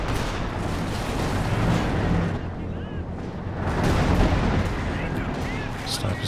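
Howitzer artillery booms in a Company of Heroes 2 battle, dense continuous rumbling blasts and explosions layered with other battlefield noise, loud and close throughout, with a commentator talking over the action.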